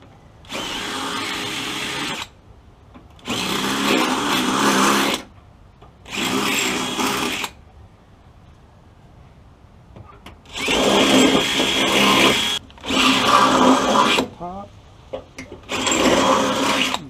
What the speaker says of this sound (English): So I'm going to drill all 5 of these holes into the 1/4 inch.